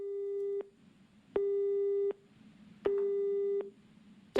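A telephone busy signal after a call is cut off: three steady, loud tone pulses, each lasting under a second and separated by short gaps. It plays alone with no voices.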